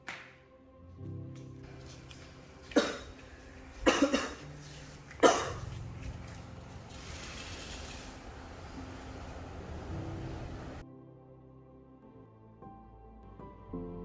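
Three sharp coughs burst out a second or so apart over a low droning background, which then continues alone.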